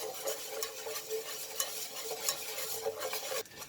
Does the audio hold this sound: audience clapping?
no